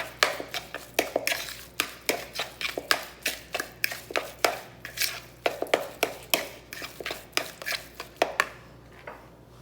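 Repeated quick taps and scrapes of a utensil against a bowl while mixing turkey meatloaf ingredients, a brisk irregular rhythm of close clicks with a soft background hum.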